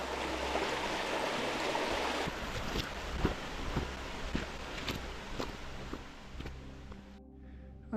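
A river stream flows through ancient Borrowdale woodland in the Lake District, giving a faint, steady rushing wash with a few soft footstep-like clicks.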